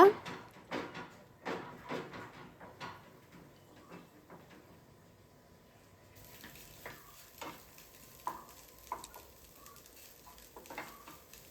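Eggs frying and being stirred in a pan with onion and coriander leaves, soft sizzling with scraping stir strokes, busier early on and quieter later, with occasional faint voices in the background.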